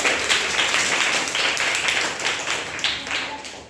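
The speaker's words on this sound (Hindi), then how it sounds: "शाबाश, एक बार जोरदार ताली बजाओ।" Schoolchildren in a classroom break into a burst of applause, many hands clapping at once in a dense, lively patter that holds for a few seconds before thinning slightly.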